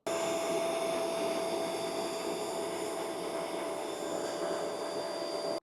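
A carpet cleaner drones steadily and loudly, a constant whirring roar with a high whine layered over it, with no talking, running together with an air filter.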